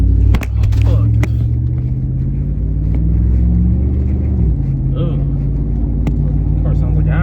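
A car driving along with a worn drive shaft knocking, heavy low rumble throughout, sharp knocks near the start, people talking over the engine noise.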